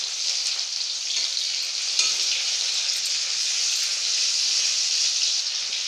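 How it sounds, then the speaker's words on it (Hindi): Ginger frying in a pan for Bihari dal pithi, a steady, close hiss of sizzling oil that runs evenly throughout with no voices over it. "अब फ्रेंड्स, मैं ऐड कर रही हूँ 1 इंच अदरक का टुकड़ा। इसे मैं 1 मिनट तक भूनूंगी।"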